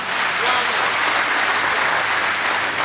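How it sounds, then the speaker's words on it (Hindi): Enthusiastic audience applause at a Hindi-Urdu poetry gathering in Ichalkaranji, a thick, sustained roar of many hands clapping continuously at even loudness. "पुरजोर तालियों से इस्तकबाल करें"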